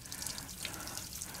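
Water from a hose or tap rinses through a K&N air filter, a steady close hiss and splatter with no talk over it.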